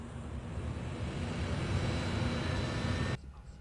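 A loud, steady airplane engine drone from an airliner scene in the film 3 Idiots fills the space, then cuts off abruptly near the end.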